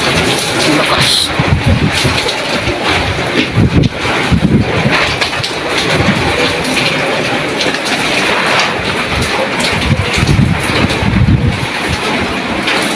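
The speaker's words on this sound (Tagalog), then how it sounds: "malakas pa rin ang hangin pero may ulan kasama" Strong typhoon winds with rain roar steadily and loudly through the whole stretch, a dense, unbroken rush of gusting air and buffeting with no clear pauses.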